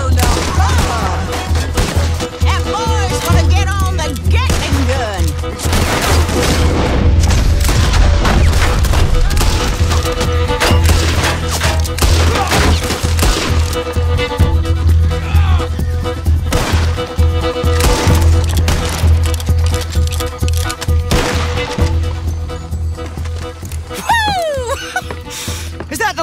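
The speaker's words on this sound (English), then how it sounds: "That boy's gonna get on the Gatling gun." Rapid Gatling gun fire in Red Dead Redemption 2, a dense, loud fusillade with booming impacts running almost continuously under game dialogue and music.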